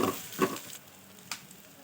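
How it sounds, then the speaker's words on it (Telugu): Ginger paste fries in a pan for a chicken keema curry, with short bursts of sizzling and spattering that fade to a softer, low hiss. "ఒక స్పూన్ వచ్చేసి అల్లం పేస్ట్ వేసుకొని పచ్చి వాసన పోయేంత వరకు మనం వేయించుకోవాలి"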